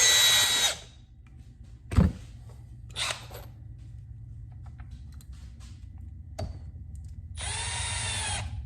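A Milwaukee M12 Gen3 hammer drill (3404-20) drives a number 8 two-inch Spax screw, giving short whirring bursts of motor noise near the mic with a low running hum between them and a longer final run.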